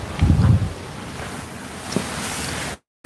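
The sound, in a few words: ocean waves at night from balcony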